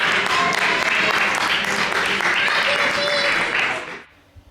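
Crew applause welcoming passengers aboard a Disney cruise ship, a lively burst of clapping mixed with cheering voices and chatter that carries on steadily, then cuts off sharply near the end.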